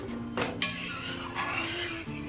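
A spoon stirs moong dal in a pot, producing a few light metallic clinks and scrapes against the pot under a faint tonal background hum.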